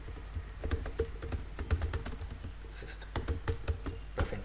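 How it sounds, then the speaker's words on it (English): Rapid clicking keystrokes on a computer keyboard, close and fairly quiet, typed in an uneven continuous stream with no talking. "Let's type"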